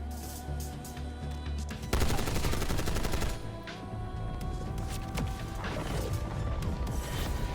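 Gunfire at the nuke on the Warhead map in Black Ops 6, a video game: dense rapid automatic fire with crashing impacts, loud and continuous throughout with a sharp surge partway in.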